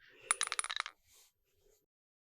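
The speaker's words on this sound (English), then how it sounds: "Do you have metal dice that could hit the floor like a bullet?" Metal dice dropped onto a floor give a sharp, bright clattering burst of rapid metallic bounces, followed by a faint settling rattle and then near silence.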